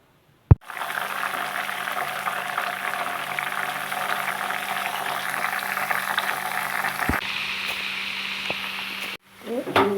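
An oil mixture with ground ingredients bubbles and sizzles steadily in an iron pan close up for several seconds as its water boils off, a dense crackling hiss broken by a couple of sharp knocks.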